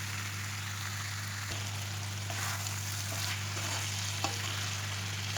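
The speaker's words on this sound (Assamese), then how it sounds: "এতিয়া এইখিনি 10 মিনিটমানৰ কাৰণে মিডিয়াম ফ্লেমত ভাজি থাকিম" Pieces of local chicken fry in oil over a medium flame for a curry, giving a soft, steady sizzle with faint crackles. A low electrical hum sits beneath it the whole time.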